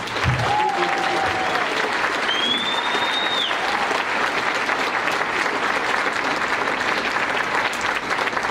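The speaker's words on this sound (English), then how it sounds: "Can we get a quick last round of applause" Steady applause at a keynote speech fills the whole stretch, a dense wash of clapping from a crowd at even loudness.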